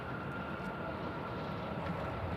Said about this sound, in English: So China Airlines coming out on Golf will be turning right onto Alpha to join us down at the end